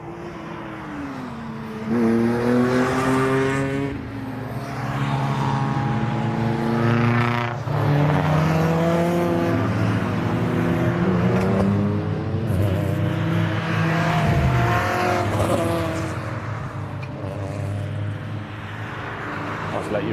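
A pack of MG Cup race cars accelerates away at the start of a circuit race, their engines roaring and revving loudly with rising and falling pitch as they stream past, sustained throughout.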